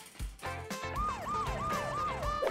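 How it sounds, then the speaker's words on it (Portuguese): An ambulance siren wailing in repeated up-and-down sweeps, loud and close, mixed with some thumping and clattering at the start. "A ambulância está aqui!"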